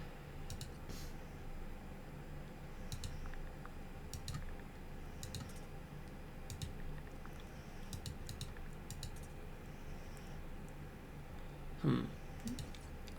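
Keys tapped on a computer keyboard in short bursts of quiet clicks, scattered through a steady low hum of background noise, with no talking.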